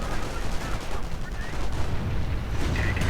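Gunfire and mortar blasts crackle through a dense real-time strategy battle, with rapid overlapping shots and booms filling the whole stretch at close, loud range.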